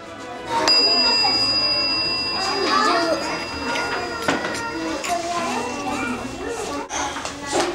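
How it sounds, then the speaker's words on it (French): Small handbells shaken by a child during a kindergarten music activity in a classroom, their light ringing mixed with steady children's chatter and playful voices throughout. "La petite Shaima mélange les clochettes pour Emma"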